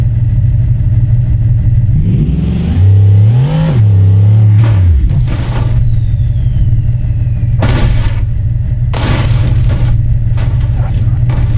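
Loud, close Bugatti engine in BeamNG.drive rising sharply in pitch as it accelerates for a couple of seconds, then cutting off, followed by bursts of rushing noise over a constant low rumble.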